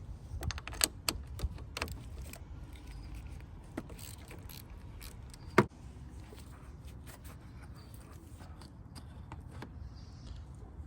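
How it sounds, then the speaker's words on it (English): Removing the negative battery terminal on a Toyota Corolla makes faint, irregular metallic clicks and ticks of a tool working on the clamp, with one sharper clack partway through, set against quiet background noise. "We're going to remove the negative terminal first."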